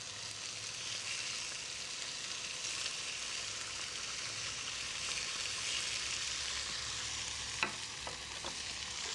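Meat without any flour coating searing in a pan in a home kitchen, giving a steady, even sizzle throughout with a few faint clicks and scrapes near the end and no talking.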